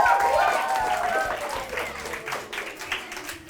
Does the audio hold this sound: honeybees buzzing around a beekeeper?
no